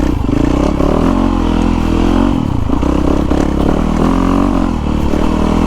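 A Yamaha YZ450FX 450cc dirt bike being ridden, its engine droning loud and steady under throttle with brief dips and surges, heard close from the rider's position over constant wind rush.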